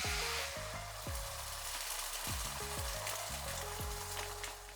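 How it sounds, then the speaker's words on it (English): Eggs land in hot oil in a pan for Japanese fried rice, bursting into a loud, steady sizzle and crackle that fills the whole stretch with no talking. "Once the oil is nice and hot, we're going to add in the eggs."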